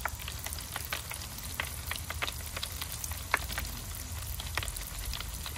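Dense crackling fizz of a bath tablet dissolving in water, steady throughout with tiny pops scattered across it, like light rain on a surface.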